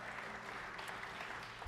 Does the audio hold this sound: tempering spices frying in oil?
no